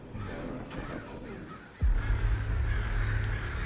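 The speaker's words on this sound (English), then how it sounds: "it sent a murder of crows down the chimney to prevent the ritual's continuation" A murder of crows cawing as a sound effect during a Call of Cthulhu tabletop session, harsh repeated caws layered over a low rumbling backdrop that swells midway.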